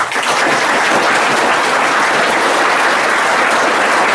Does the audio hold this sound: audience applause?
yes